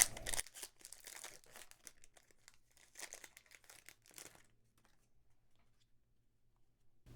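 Magic: The Gathering Zendikar Rising booster pack wrappers are torn open, with close crinkling and ripping foil in quick bursts for about four seconds, then near quiet with faint handling.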